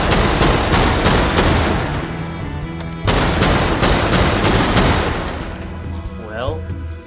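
Talon gun in a video game fired from the hip in long rapid automatic bursts, loud and close, with a brief break near the three-second mark and a short rising electronic chirp near the end.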